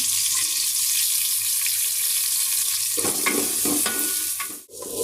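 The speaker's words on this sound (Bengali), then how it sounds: "চালটা ভালো করে ভেজে নিচ্ছি" Rice frying in ghee and oil with whole spices for chicken pulao, a steady close sizzle that grows busier after a few seconds as it is stirred, with scraping strokes of a spoon in the pan.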